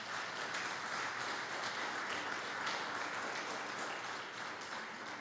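Congregation in a church service applauding, a steady, dense wash of clapping that holds evenly throughout at moderate distance with no talk over it.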